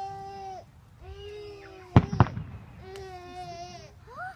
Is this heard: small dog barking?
no